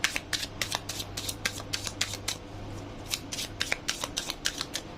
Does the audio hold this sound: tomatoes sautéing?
no